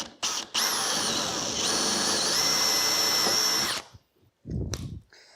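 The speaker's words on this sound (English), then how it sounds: "I'm going to bore a hole with a small drill bit on the inside of the circle" A power drill whirs loudly for about three seconds, boring a hole in wood with a small bit, pitch dipping briefly as it bites, then stops; a short burst of drilling follows after a pause.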